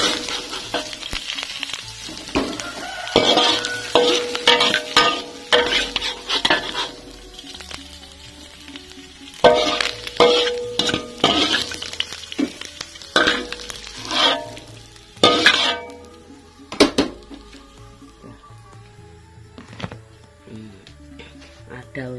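Mushrooms stir-fried in a hot pan at a village food stall, loud bursts of sizzling and frying with repeated scraping and clattering of the spatula, rising and falling in irregular waves.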